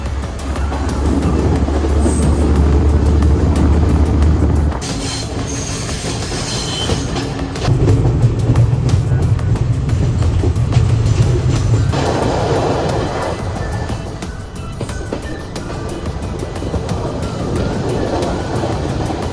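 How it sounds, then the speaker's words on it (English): A train rolls through the Sri Lankan countryside toward the lowlands, with a loud steady rumble of wheels and carriages, shifting in tone partway through as the run continues. "Now the train is running to the lowlands"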